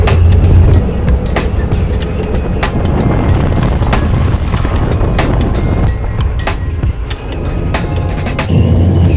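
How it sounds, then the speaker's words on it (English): A 1963 Studebaker Champ drives along with a steady engine rumble, road noise and wind buffeting, punctuated by scattered rattles and knocks. "Cruising down the street in my Studebaker."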